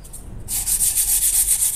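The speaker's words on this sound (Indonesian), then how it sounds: "untuk mengamplas bagian yang berkarat ini ya kita amplas terus sampai rata ya" Steady, loud abrasive rubbing of sandpaper on rusted stainless steel, repeated back-and-forth strokes in a quick even rhythm, close up.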